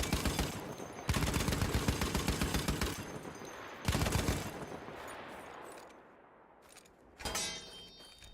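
Sustained automatic gunfire in Battlefield 1 as wooden crates are shot, loud rapid bursts with brief pauses and breaking debris near the end, no talking.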